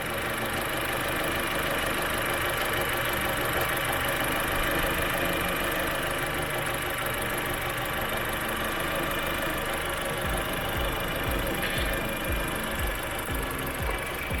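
A 2011 Chevy Aveo5 engine idling after a tune-up, a dense, steady mechanical hum with fine rapid ticking running continuously and fairly loud, without a break.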